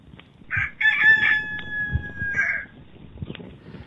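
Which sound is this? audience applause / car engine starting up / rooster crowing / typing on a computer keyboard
rooster crowing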